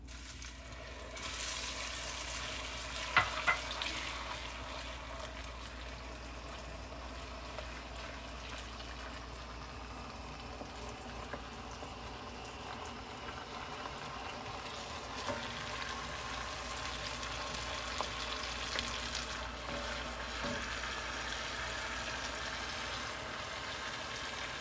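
Tomato puree, garlic and basil cooking in a pan, giving a soft continuous sizzle and bubbling throughout, faint and steady, with an occasional clink near the start.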